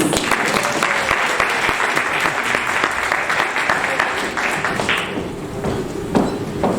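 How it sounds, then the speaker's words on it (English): A school award ceremony audience breaks into sustained applause for children called on stage, dense clapping filling the room steadily for several seconds before thinning slightly near the end. "Give them a round of applause!"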